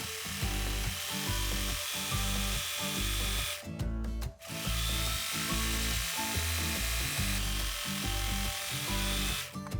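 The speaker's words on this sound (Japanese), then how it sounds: "生地の耳ではない両サイドにロックミシンをかけてください。" Overlock serger sewing machine stitching fabric edges, a loud close mechanical whir in rapid rhythmic bursts that runs steadily, with a brief pause near the middle before it starts again.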